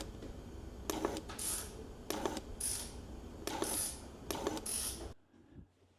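A new fuel injector fires in a Mercedes electronic injection cleaner and tester, giving five short hissing spray bursts in an irregular sequence over a faint mechanical hum, then falling quiet.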